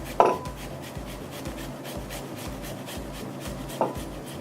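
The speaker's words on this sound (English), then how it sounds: "I'm going to go ahead and take the ginger and we're going to grate it" Fresh ginger is scraped across a grater into a liquid mixture with sesame oil, giving soft rhythmic rasping strokes at a steady pace, close and faint, with a couple of sharper knocks.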